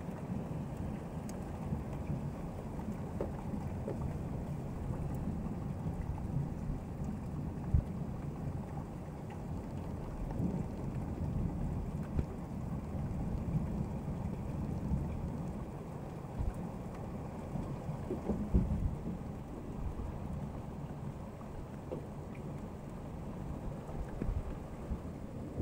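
Heavy thunderstorm in Grootebroek, with steady loud rain pouring down and low rumbles of thunder rolling through, no voices present.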